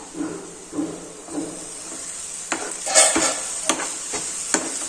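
Onion, tomato, ginger-garlic paste and masala sauté in a pan over a medium gas flame, a soft sizzle under scraping spoon strokes and a few sharp clinks against the pan, up close and alone.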